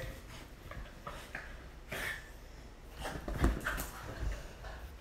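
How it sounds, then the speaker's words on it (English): A small dog whimpers and whines softly in a few short bursts, close by, with faint rustling in between. "This is my my little doggy here."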